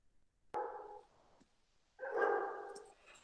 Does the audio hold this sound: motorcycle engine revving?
no